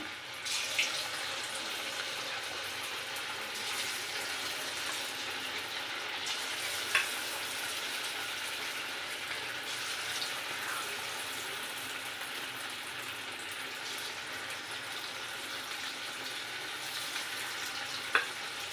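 Chicken manchurian pieces fry in hot oil over a medium gas flame, a steady close sizzle and crackle that carries on unbroken, with a few faint clinks along the way.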